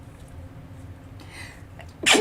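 One person sneezes sharply and fairly close near the end of a quiet stretch, during a craft livestream in which someone alters a seaside artists' book.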